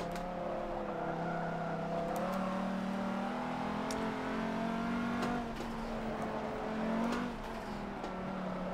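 A 327-horsepower Volvo in a racing video game laps the Nürburgring, its engine a steady, close droning hum whose pitch rises and dips gently with throttle, heard alone with no talk.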